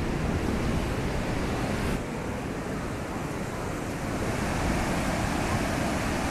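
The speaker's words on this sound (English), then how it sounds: "Some great waves today for the surfers." Ocean waves breaking at Kata Beach in Phuket, Thailand, a loud continuous roar of surf mixed with wind buffeting the microphone, with no voices.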